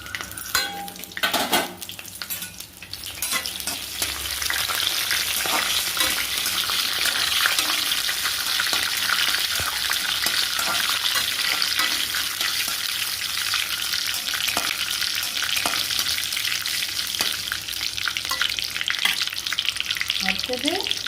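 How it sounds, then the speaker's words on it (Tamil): Cinnamon, fennel seeds, cloves and dried chillies fry in hot oil for tempering, a loud, bright crackling sizzle that starts after a few quick stirring clatters and then holds steady and close, with no speech. "இப்போ நம்ம எடுத்து வச்சு பட்டை, சோம்பு, கிராம்பு எல்லாம் போட்டு தாளிக்க போகிறோம்."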